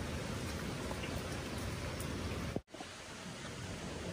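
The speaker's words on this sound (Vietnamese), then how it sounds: "trời vẫn đang mưa đây" Steady rain pours down on a rural mountain village where a house is being built, a constant close hiss of drops on surfaces with a brief break in the middle.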